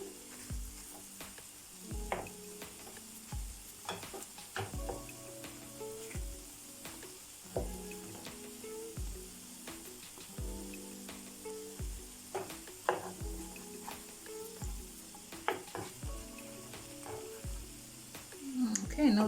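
Banana drop scones sizzle steadily in an overheated frying pan, a continuous close crackle broken by occasional clinks and scrapes of a utensil against the pan.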